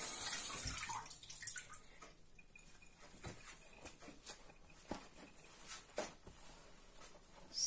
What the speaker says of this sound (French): je vais aller laver la deuxième.